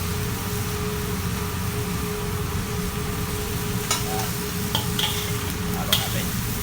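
Chicken in oyster sauce sizzles steadily in a hot pan while it is stirred, a constant frying hiss running the whole time with occasional faint scrapes of the utensil against the pan.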